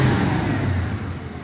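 A 1975 Triumph Stag with automatic transmission revs its engine close by, a steady, loud mid-pitched roar rising and easing slightly over a second and a half, with no one talking.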